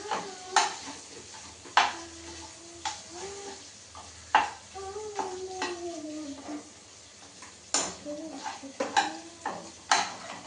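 Spiced chicken fries in a pan for pasta with egg, a soft sizzle beneath repeated scraping and stirring, sharp clinks of tongs or a utensil against the pan, and occasional squeaky metal scrapes at an uneven pace.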